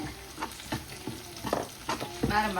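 Ingredients sauté in hot oil for a squid curry, a close sizzle broken by the scrape and clack of a spoon stirring the pan in irregular strokes, with no voice.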